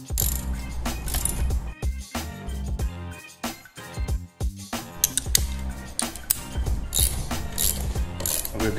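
Bolts being tightened on a Harley-Davidson belt guard, rapid ratchet clicking in repeated bursts with short pauses between them, close and fairly clear, mixed with small metallic clinks and no talking.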